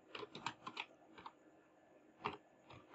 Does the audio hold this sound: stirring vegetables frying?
no